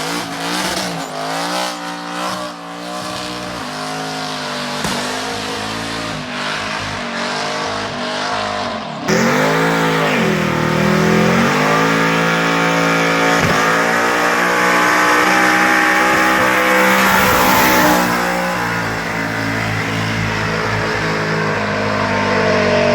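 An LSX-swapped Cadillac Escalade does nasty burnouts, its V8 revving hard and repeatedly, with the pitch rising and falling in loud sustained bursts, a sudden jump to a harsher roar partway through, and tire squeal and hiss mixed in.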